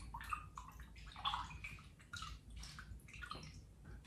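Intensely colored fragrance oil poured while making citrus-scented candles, a faint, close, uneven trickle and splash of liquid lasting several seconds.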